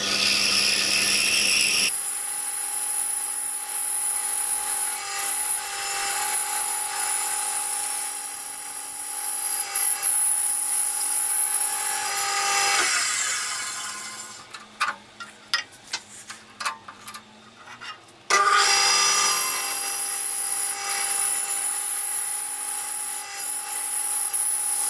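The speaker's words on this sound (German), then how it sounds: "Anschließend sägen wir das Motiv an einer Bandsäge aus." A band saw cuts out a wooden motif for a homemade flower vase, a steady loud whining drone that runs for most of the stretch. It drops away briefly in the middle to scattered ticks and clicks, then the drone starts up again.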